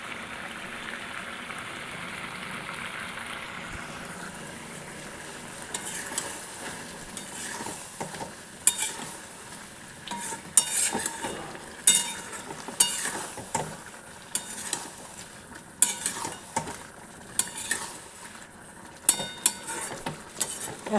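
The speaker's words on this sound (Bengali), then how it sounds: "ঢাকাটা খুলে রাখছি, কারণ মশলাটা ভালো করে ভাজতে হবে।" Spice paste for chicken frying in an uncovered pan, a steady sizzle with repeated scraping strokes of a stirring spoon, close and fairly loud, with no voices.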